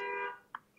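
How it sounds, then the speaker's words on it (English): Alarm going off, a steady electronic tone that fades after a moment, gives a short blip, then starts again, faint and alone. "Turn off your alarm"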